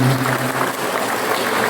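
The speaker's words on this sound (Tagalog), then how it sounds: "pumalakpak tayo sa pagbubuting" A church congregation claps together in steady, dense applause that fills the short moment at an even loudness.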